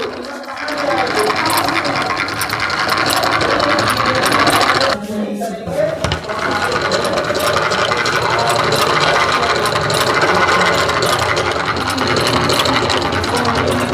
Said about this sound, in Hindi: देखिए यहाँ पर ये जो फ़ैन है वाइब्रेट कर रहा है, मूव कर रहा है।